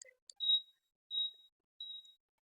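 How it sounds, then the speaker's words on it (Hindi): Turn indicator buzzer on a Vida V2 Pro electric bike, three short high-pitched beeps at a steady rhythm, clean and close with nothing else heard. "जो अगर हम इंडिकेटर लगाते हैं तो ये ऐसा वाला बज होता है।"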